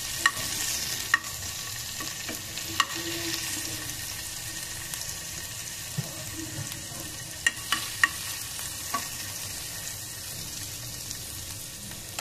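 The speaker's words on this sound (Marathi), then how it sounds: "थोडं तेल घातलंय पॅन मध्ये, थोडा लसूण छान असा परतून घ्यायचा आहे।" Finely crushed garlic fries gently in a little oil in a pan, giving a soft, continuous sizzle with occasional light clicks of stirring, quiet and close throughout.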